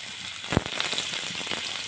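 Potatoes and broad beans frying together in hot oil, a steady close sizzle and crackle with a brief louder burst near the start, no talking.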